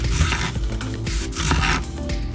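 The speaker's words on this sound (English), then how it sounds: "you know how to cut the onion by the ridges" Knife slicing an onion along its ridges, a close series of soft rasping cuts repeating in a loose rhythm, fairly loud and with no talk.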